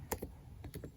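Typing of a website address on a computer keyboard: a few quiet, close key taps in two small clusters over faint background hiss, with no talking.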